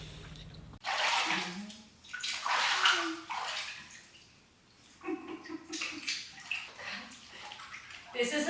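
Water sloshes and splashes in a small swimming pool, rising and falling in bursts with gurgles and drips, close by, alongside some speech.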